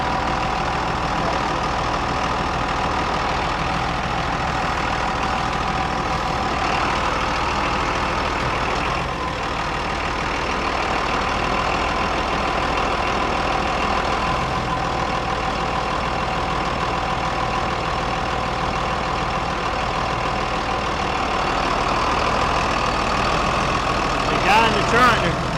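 A tractor engine idles steadily and loudly throughout while it pulls up beside a tobacco trailer, a continuous mid-low rumble with people talking over it.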